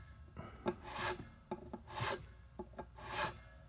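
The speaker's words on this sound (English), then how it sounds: "So I'm just going to file this down slightly wider." A nut file rasps in short, quiet back-and-forth strokes, widening a string slot in the nut of a Schecter Hellraiser Hybrid C7 guitar, close up with no voices.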